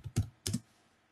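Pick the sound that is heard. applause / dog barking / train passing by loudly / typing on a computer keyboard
typing on a computer keyboard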